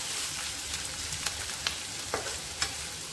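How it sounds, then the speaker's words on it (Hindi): Onions frying in a pan over medium to high flame for egg curry, a steady close sizzle with a few sharp spatula scrapes and ticks scattered through it. "देखिए हमारा प्याज काफ़ी हद तक भुन चुका है"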